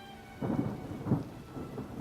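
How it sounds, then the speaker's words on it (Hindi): Heavy rain hisses steadily while deep rumbles of thunder swell and fade in several low rolling waves, with no talk. "अच्छी बारिश हो रही।"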